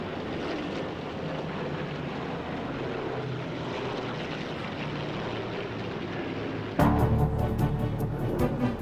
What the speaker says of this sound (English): The aircraft that's always associated with Duxford, the Spitfire, flying here in its 60th anniversary year.